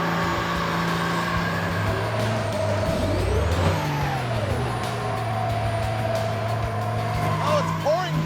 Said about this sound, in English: Is this what the ramp truck sounds like?